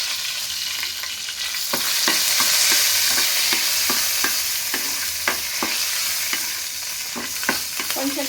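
Dry red chilli and curry leaves frying in hot tempering oil with mustard and cumin seeds, a close, steady sizzle broken by small crackles and pops as the pan is stirred.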